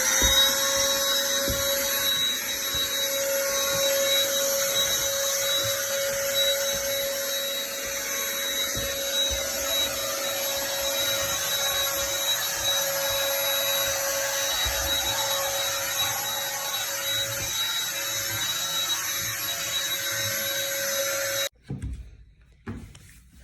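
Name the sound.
Black & Decker handheld vacuum cleaning a reptile enclosure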